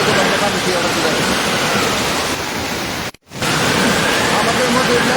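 Heavy rain and rushing floodwater at Madhutila Eco Park roar as a dense, loud, unbroken wash of noise, cut by a single brief dropout midway.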